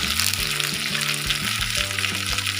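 Ground cumin, coriander and black pepper hit hot oil while cooking a vegetable rassa curry, giving a steady, dense sizzling hiss with background music.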